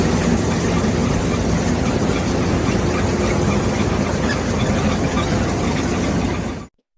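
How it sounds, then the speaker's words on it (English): A tractor-drawn sweet potato harvester runs with a loud, dense engine roar and mechanical clatter. Steady throughout, then cuts off abruptly. "You use a tractor-drawn sweet potato harvester."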